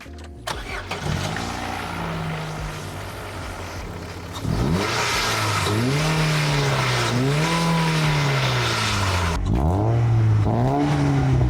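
A Vauxhall Corsa's upgraded, 24-year-old engine with about 67,000 miles cranks and catches, then idles and revs in rising and falling surges, loud and close throughout.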